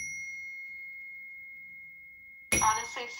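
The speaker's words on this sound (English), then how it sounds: "I bought a new Zen bell, and it's not really zenning." A newly bought zen bell rings with a single sustained metallic tone that slowly fades over a few seconds. A voice then cuts in abruptly near the end.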